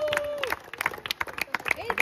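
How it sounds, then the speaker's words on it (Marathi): Applause and cheering from a crowd at a society cricket league trophy presentation, bursts of clapping mixed with babble and a voice, fairly close and lively for a couple of seconds. "जोरदार टाळ्या"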